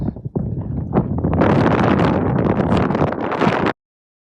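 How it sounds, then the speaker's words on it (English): Strong wind buffets the microphone on the exposed summit of Queensberry Hill in Galloway, roaring loud and continuous in rough gusts for several seconds before cutting off abruptly. "it is pretty windy up here"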